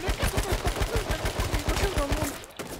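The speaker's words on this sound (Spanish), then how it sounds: "me están disparando a mí, güey" Rapid gunfire from the H1Z1 battle royale game crackles in a dense, rhythmic burst of shots close up, running steadily before cutting off near the end.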